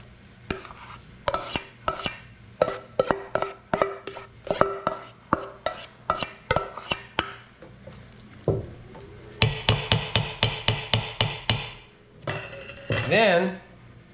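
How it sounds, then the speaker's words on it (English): Potatoes being scraped and tipped into the metal top of a double boiler, a rapid series of clanks and clinks of utensil on metal, close and sharp, ending with a few scraping strokes. "now we're going to transfer the potatoes into the top of the double boiler"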